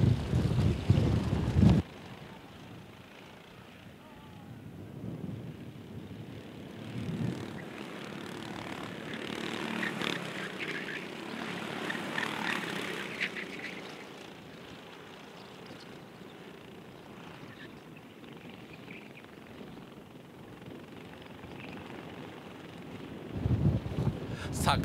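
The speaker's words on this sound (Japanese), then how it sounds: "かなり風が強くなってまいりました。" Strong wind buffets the microphone at a race circuit during a sprint race, a broad continuous roar that swells and fades for the whole stretch, with louder gusts at the start and end.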